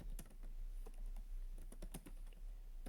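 Rapid, uneven keystrokes on a computer keyboard while coding an Angular 17 login form, close and fairly quiet, with clustered clicks and brief pauses and no voices.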